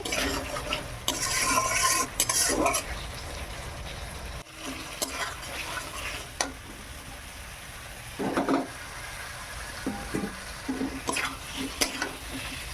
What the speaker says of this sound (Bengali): আলুটা দিয়ে ভালো করে আবার আমি 2-4 মিনিট কষিয়ে নেই, তারপর ডিম দেব।